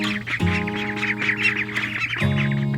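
Farm ducks in a hot, humid barn pen give a steady chorus of squawking, quacking calls, loud and close, with overlapping voices throughout.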